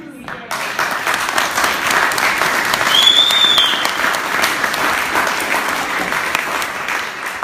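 Wedding guests at a reception break into loud, sustained applause that swells slightly midway, with cheering voices and a brief whistle mixed into the crowd noise.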